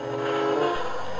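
A military train hauling tanks and helicopters rolls past nearby, giving a steady, loud rumble of rail cars with a tonal horn-like drone throughout.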